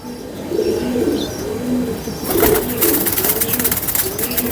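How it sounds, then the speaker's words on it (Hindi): A cobra-type fancy pigeon coos in repeated low, rolling phrases close by, joined partway through by sharp flapping and rustling. "क्या कोबरा टाइप कबूतर है माशाल्लाह"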